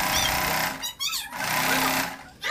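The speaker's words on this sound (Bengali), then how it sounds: "সম্পূর্ণ কাপড়টার উপর দিয়ে একটু বড় করে সেলাই করে দিচ্ছি।" A sewing machine running a long stitch across frill fabric for a baby frock, a fast mechanical chatter in bursts that stop and restart, with a short pause in between.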